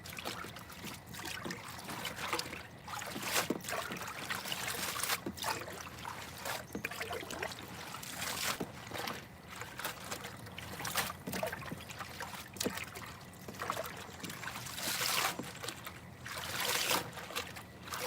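Freshly harvested greens swished and rinsed in water, giving continuous close sloshing, splashing and trickling with irregular surges as the leaves are handled, no speech.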